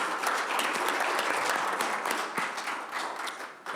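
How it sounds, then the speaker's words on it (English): A crowd at a Board of Education business meeting applauds steadily, dense clapping from many hands that holds strong and then tapers slightly toward the end. "Y'all can give them a round of applause."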